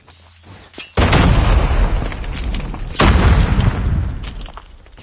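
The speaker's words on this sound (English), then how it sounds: "Grenade!" Two heavy grenade blasts in Call of Duty Mobile multiplayer boom out a couple of seconds apart, each a sharp loud burst that fades into a rumbling tail, with no talk over them.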